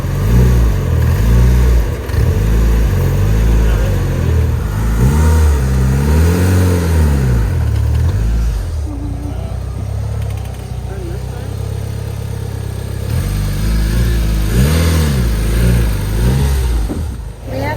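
A Mitsubishi Evo 5 engine revs up and down in repeated rising and falling sweeps close by, with a quieter idle in the middle before it revs again, and a person speaks over parts of it.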